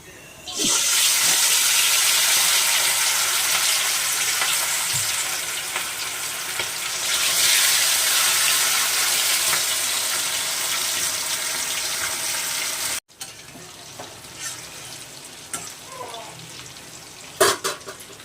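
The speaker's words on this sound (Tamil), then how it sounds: "எண்ணெய் காஞ்சிச்சு. இப்போ சிக்கன் எடுத்து போட்டுக்கலாம்." Chicken legs sizzle loudly in hot oil, a steady crackling hiss for most of the clip, then quieter frying with a few clinks near the end.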